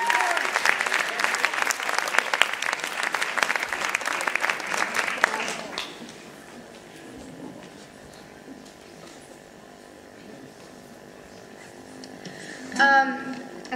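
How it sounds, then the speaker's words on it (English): An open mic audience applauds loudly after a cover at SYA in 2006, then the clapping fades into a quiet room with faint murmur and a brief sharp burst near the end. "Let's give him a round of applause."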